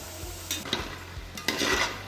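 Plantain chips fry in hot oil over a low-to-medium flame, a soft steady sizzle broken by a few brief scraping stirs near at hand.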